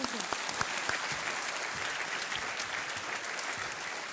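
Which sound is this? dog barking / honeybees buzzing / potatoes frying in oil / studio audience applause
studio audience applause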